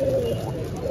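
At a pigeon market in Katakhali, Rajshahi, where old yellow-eyed Ilam pigeons are sold, a short, steady low coo sounds close by against the market's background murmur.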